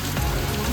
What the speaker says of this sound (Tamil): செம்ம மழை பெஞ்சிட்டு பயங்கரமாக இருக்குது பாருங்க